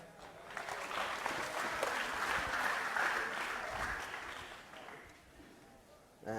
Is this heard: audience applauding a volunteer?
yes